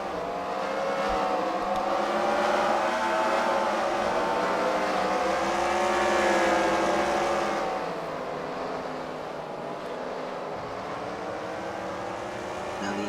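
Race car engines drone continuously on a track, a loud, steady, layered whine of several cars with rising and falling pitch as they circle, easing slightly in the second half.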